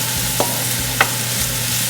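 Celery sautéing in olive oil for a crab and corn soup, a faint steady sizzle with a few light stirring clicks and taps near the pan, no voices.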